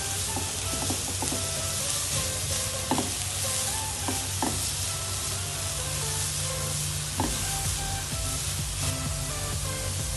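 Semolina snack mixture frying in a pan, steady sizzle throughout with several soft knocks and scrapes as the food is tossed and stirred, close and moderately loud, no speech.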